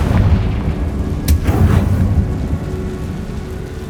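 Spell explosions from Bombarda and Confringo in the Hogwarts Legacy video game sound as deep rumbling booms with a sharp crackling burst in the middle, loud and close, fading into a low roar.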